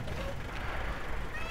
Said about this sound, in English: Shut up, you stupid kitty.